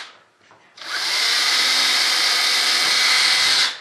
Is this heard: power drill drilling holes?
yes